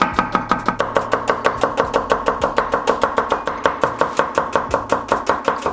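A knife thinly slices red onions on a board in a fast, steady run of crisp, even chops, close and loud, with no voices.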